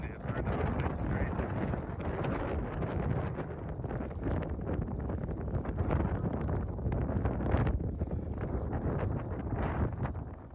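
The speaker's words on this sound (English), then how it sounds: "Windy, it's hard to hold it straight." Steady, heavy wind buffets the microphone while cycling the EuroVelo 15 route from Disentis to Chur, a continuous low roar, loud and unbroken throughout, with faint talk buried underneath.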